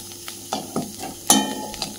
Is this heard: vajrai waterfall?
no